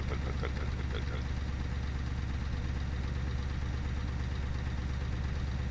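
A truck engine in Euro Truck Simulator 2 chugs along at a steady low drone with a continuous even rumble and no clear breaks.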